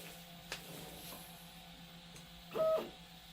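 A 3D printer's print head steps down on the Z axis, a faint brief motor whine near the end after a couple of soft clicks, set against quiet room hiss.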